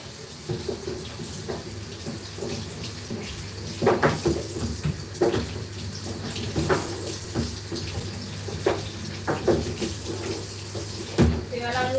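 Water runs steadily from a kitchen sink tap during washing up, with clinks and knocks of items handled in the basin over the flow.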